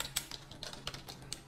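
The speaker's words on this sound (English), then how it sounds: "Let me just convince you by typing this statement in Jupyter Notebook." Typing on a computer keyboard while entering code in a Jupyter Notebook, a quick run of light, close keystroke clicks with uneven rhythm and no talk.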